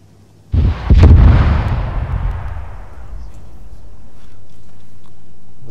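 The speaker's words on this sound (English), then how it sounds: "Is that gunfire to our west?" A loud booming gunshot in a video game, with a long rolling echo that slowly decays, heard once and followed by a low steady rumble.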